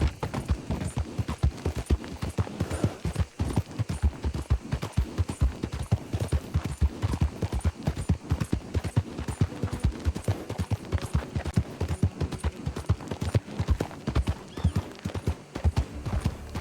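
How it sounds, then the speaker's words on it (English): Horse hooves clip-clop in a steady, rhythmic trot throughout a ride in Red Dead Redemption 2, close and fairly loud with no talk over them. "Clip clop, clip clop."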